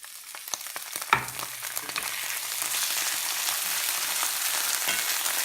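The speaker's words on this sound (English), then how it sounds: "I'm gonna add tomato right now." Tomato dropped into hot oil with eggplant in a pan for baingan bharta, bursting into a loud, steady sizzle and crackle after a sharp splash, continuing alone throughout.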